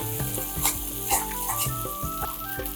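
Ginger garlic paste sautéing in a hot pan for Mumbai-style masala vada pav, giving a steady close sizzle with small stirring clinks and scrapes.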